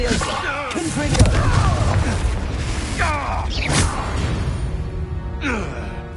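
A Confringo blasting spell explodes in the Hogwarts Legacy video game, loud bursts and booming impacts over game music and effects, with voices speaking over the action.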